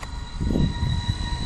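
Steady high-pitched whine from FPV drone motors on a Proton frame, with sharp tonal lines, holding a constant pitch over a low rumbling hum, continuous and fairly loud throughout.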